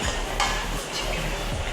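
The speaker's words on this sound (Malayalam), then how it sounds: "ഇനി നന്നായിട്ട് നമുക്ക് ഇളക്കാം" A spoon stirs chicken curry masala in a pan with a continuous sizzle and a few rhythmic scraping strokes against the metal, close up with no one talking.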